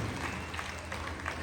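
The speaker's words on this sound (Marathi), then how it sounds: "जोरदार टाळ्या वहिनीसाठी झाल्या पाहिजे" Audience clapping at a women's community comedy and games event in Kolhapur, a steady dense patter of many hands spreading through a crowded hall, moderately loud with no voices over it.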